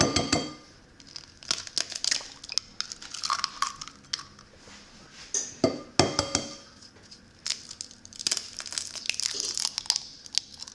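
Three eggs cracked into a bowl for pumpkin cheesecake bites, giving a run of crisp shell cracks, crinkles and glassy clinks spread across the clip, close and fairly quiet.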